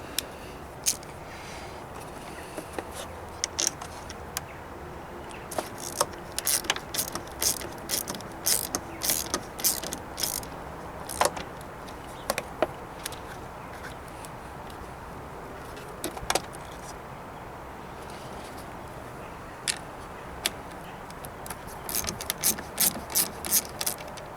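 A ratchet with a size 10 socket works a bolt loose in the engine bay of a Seat Ibiza 6L, giving irregular bursts of sharp clicking and metallic ticks between quieter pauses.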